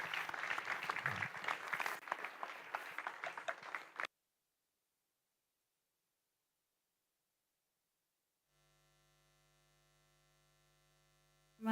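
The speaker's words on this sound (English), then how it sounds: "give a big round of applause for our final act, Daria Lakshmi." Audience applause at a Navaratri Puja evening for the final dance act, a few seconds of steady clapping that cuts off into near silence and faint electrical hum.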